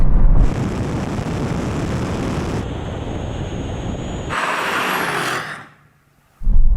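A steady roar of engine and wind noise fills the cabin of an Audi RS6 Performance during a drag race against a BMW M5 and AMG E63 S. The roar briefly thins, then cuts out almost to silence before surging back loudly.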